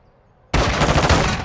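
Gunfire in Call of Duty Modern Warfare 2 bursts in suddenly after a brief quiet moment, a loud, dense rattle of rapid automatic shots that carries on without a break.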